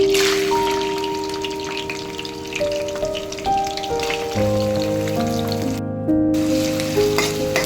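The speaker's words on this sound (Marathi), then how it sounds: "तर कांदा फोडणीला घालूया." Onion dropped into hot oil tempered with garlic, sesame and mustard seeds crackles and fries loudly, a dense close sizzle with scattered spits and pops and some stirring, while steady tonal hums sound underneath.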